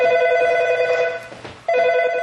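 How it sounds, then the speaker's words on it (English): A telephone rings loudly and close by, with a steady electronic bell tone that drops out briefly and then resumes. "Then the phone rang and I picked it up"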